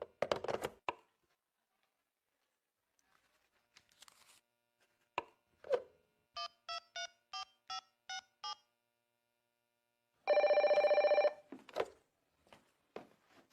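Short bursts of a telephone ringing, eight quick electronic rings in a steady pattern followed by one longer tone, heard between knocks and brief voices in a quiet room.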